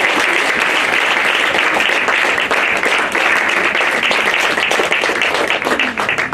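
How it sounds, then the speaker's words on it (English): A crowd at a Rotary Club celebration applauds loudly and steadily, many hands clapping in a dense, sustained wash for several seconds with no voices on top. "she deserves a big round of applause"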